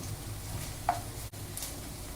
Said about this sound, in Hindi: पनीर को अच्छे से फ्राई कर लेंगे।